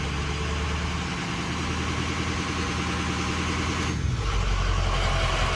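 A 6.0 diesel truck engine idles with a steady low rumble, then drops abruptly to a lower, slower idle near the end, loud and close with no talking.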